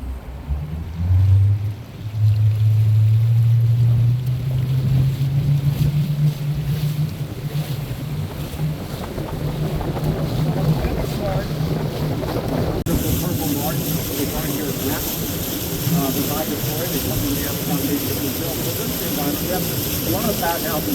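Motorboat engines on a scenic lake boat tour in Winter Park: a steady low drone from nearby boats passing, with water and wind noise rising over the second half and a voice speaking under it.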